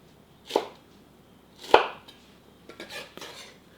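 A knife chops red chili on a cutting board in a few separate strikes, a pair of sharp cuts followed by lighter quicker taps.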